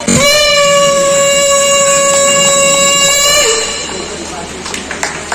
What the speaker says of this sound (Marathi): तर सर्वप्रथम शंखध्वनी वाजवून आपण या प्रोग्रामला सुरुवात करूया।